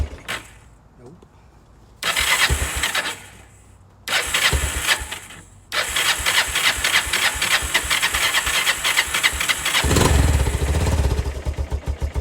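A 2002 Kawasaki Bayou 300 ATV is cranked over and fires up with loud, raspy bursts, stalling between tries before catching and running with hissing revs. A voice is heard briefly at times.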